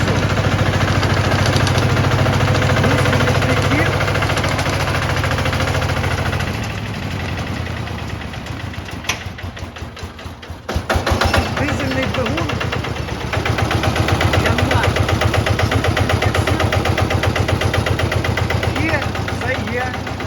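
A Japanese Yanmar PKD60 self-propelled thresher engine idling loudly and steadily, dipping briefly in the middle before resuming its rough, rapid chugging.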